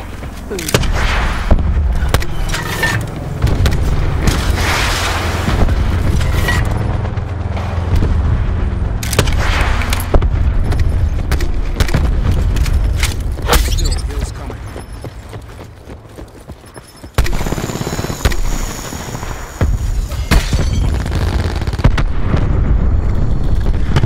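Missile sentry explosions boom and thud repeatedly in Call of Duty: Black Ops 4 on the Morocco map, loud and dense over constant gunfire and game noise.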